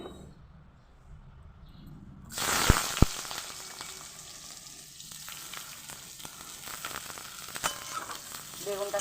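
Oil starts sizzling loudly as eggplant drops into a hot kadai, after a quiet start, with a couple of sharp clinks and steady frying crackle continuing.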